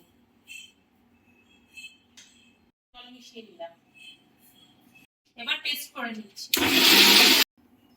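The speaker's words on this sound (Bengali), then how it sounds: "কাঁঠালের বীজটা আমাদের মিক্সিতে বাটা হয়ে গেছে" A kitchen mixer grinder grinds boiled jackfruit seeds, garlic, green chillies and salt in one short, loud, harsh whir of about a second, following a stretch of talking and light clinks.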